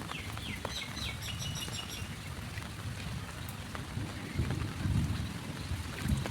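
Thunderstorm with steady rain pattering on surfaces near a flooded gate and pond, a low rumble of thunder swelling midway, constant and moderately quiet with faint bird chirps.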